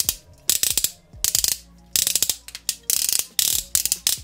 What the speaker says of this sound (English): Not a very nice ratchet going in and out.